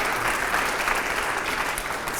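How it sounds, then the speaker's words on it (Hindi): Loud, sustained applause from a studio audience at a televised editors' forum with a Union minister. Many hands clap in a dense, even roar that continues without a break or any voices on top. "जोरदार तालियां हो यहां पर"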